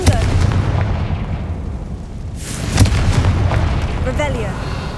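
A fiery blast spell bursts in Hogwarts Legacy, a loud booming explosion with a sharp crack midway, set against dense rumbling game ambience and scattered magical effects.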